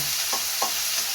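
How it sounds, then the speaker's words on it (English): Peppers fry in a hot pan with a continuous sizzle and two quick stirring scrapes close by. "I'm going to saute all my peppers"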